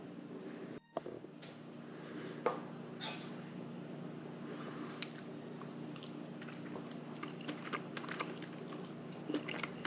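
Someone chews a freshly made Welsh cake close up, with soft moist bites and squishy mastication over a quiet hum, and a few small clicks.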